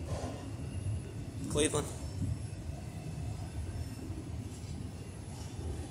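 Freight train motor rumbling past with autoracks, steady low rail rumble and brief wheel squeal, while someone talks over it nearby.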